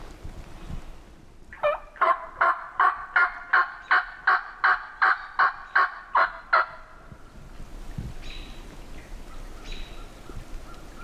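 Wild turkeys gobble in woodland, heard from a distance as a single rapid rattling burst of about a dozen pulses, followed by quiet woods with light wind.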